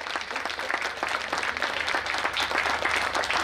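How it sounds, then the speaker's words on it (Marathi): Audience at a public speech gathering applauding in a dense, continuous burst of many hands clapping that holds steady for several seconds, loud and without talk. "यांच्यासाठी सर्वप्रथम चांगल्या टाळ्या वाजवा"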